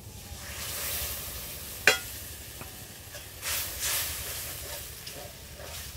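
Cashew-poppy seed paste and milk hit a pan of sizzling spiced masala, a close, steady hiss and sizzle with a sharp tap near the start and a brief surge of bubbling, no voices.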